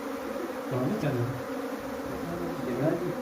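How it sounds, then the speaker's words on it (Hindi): Apis cerana honeybees buzz in a dense, steady drone while being shifted into a traditional hive box, a continuous close-up hum with no speech over it. "जितनी भी मधुमक्खी है सब की सब इसके अंदर आ जाएंगे।"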